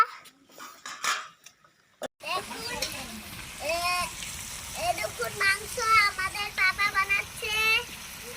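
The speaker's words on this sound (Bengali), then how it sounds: "মাংসটা খুব কষানো হচ্ছে" Mutton is fried hard in a pan over a wood-fired clay stove, with loud clattering of a metal spoon against the pot and sizzling, while a person talks over much of it.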